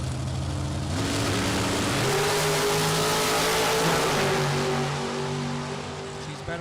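A drag racing car sits at the starting line of a Super Pro bracket event and launches, a loud, sustained engine roar that holds steady for several seconds before easing off near the end.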